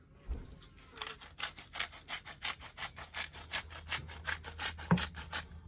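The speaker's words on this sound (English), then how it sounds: "We've been using that Himalayan pink salt. Little table grind." Himalayan pink salt crushed in a small table grinder over sea bass, a steady run of rasping, gritty grinding strokes, close and fairly quiet, with no talking.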